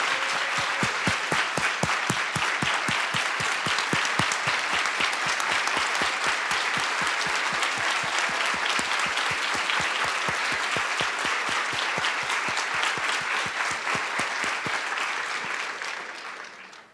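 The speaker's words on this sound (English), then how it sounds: "If you can all join me in a round of applause for Gail and Maria." Sustained audience applause at a back-to-school gathering honoring two retiring staff members, a steady, even roar of many hands with crisp individual claps, holding strong for most of the stretch before fading away at the end.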